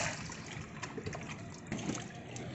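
Water poured over a person during a ritual bath for Kali Puja, a continuous trickling and splashing stream running steadily throughout at moderate level.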